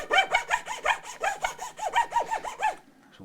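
A fine saw rasps back and forth through a glued-in nut on a partscaster Stratocaster, about fifteen quick even strokes in a steady rhythm, close and clear, then stopping.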